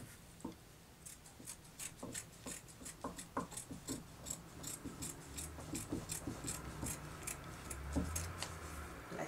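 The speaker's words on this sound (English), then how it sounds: "Place it like this and cut it out." Scissors cutting out a piece of lace fabric for a gathered skirt, a quiet series of short snipping clicks in an uneven rhythm, close up with no talking.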